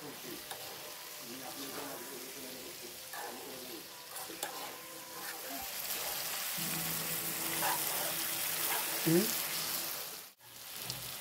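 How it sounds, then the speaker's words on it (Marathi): Spiced paneer roasts in a pan until brown, giving a soft, continuous sizzle and crackle with occasional stirring scrapes, fairly quiet and without talk. "मसाले लावून ठेवलेलं पनीर आहे ना, ते चांगलं असं हे ब्राऊन होईपर्यंत भाजून घ्यायचं पनीर."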